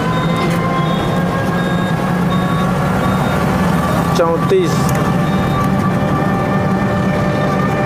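A toto electric rickshaw driven at full speed gives a steady electric motor whine over rattling road noise, with a voice briefly calling out a number.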